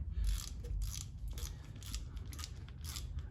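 Rhythmic mechanical clicking from a ratchet wrench, roughly evenly spaced strokes, close by over a low rumbling background.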